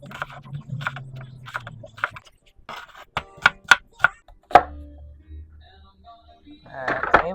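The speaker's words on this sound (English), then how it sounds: "Most of the chopping's done." A knife chops vegetables on a cutting board in a kitchen, giving a run of sharp, close, rhythmic taps that pause and then return. Talking comes in briefly and returns at the end.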